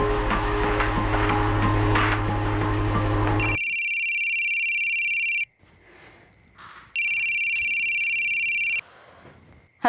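A telephone rings repeatedly without being answered, electronic ring bursts alternating with quiet gaps after a loud musical passage, in an indoor Delhi crime drama setting.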